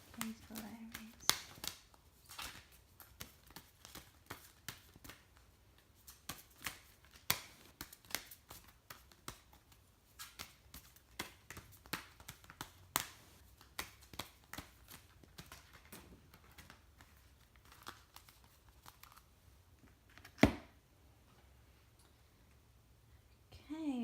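Tarot cards being shuffled and drawn for a reading, soft close flicks, riffles and taps in irregular bursts, quiet, with a voice talking softly around them.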